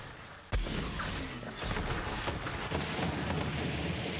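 A grenade in the video game Borderlands 3 goes off with a sudden loud blast, followed by a sustained crackling, rumbling wash of debris and combat noise.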